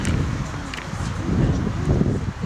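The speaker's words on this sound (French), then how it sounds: "Ah, trop de vent." Strong outdoor wind buffets the microphone in a steady low rumble that swells and eases over a couple of seconds, with faint rustling on top and no clear speech.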